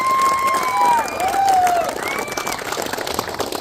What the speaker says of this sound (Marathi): त्यांच्यासाठी एकदम जोरदार टाळ्या होत्या